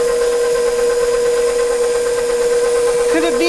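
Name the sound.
KitchenAid stand mixer motor running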